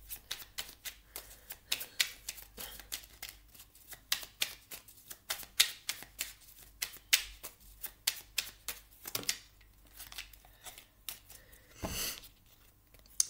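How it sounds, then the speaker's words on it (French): Oracle cards being shuffled by hand, a long run of crisp riffling flicks and soft slaps, close and quiet, with a few cards slid and drawn from the deck near the end. "On va aller chercher une carte d'oracle pour avoir un détail."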